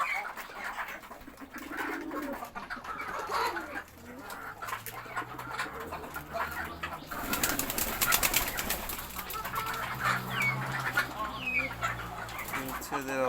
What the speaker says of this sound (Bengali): কবুতরগুলো ডাক দেখুন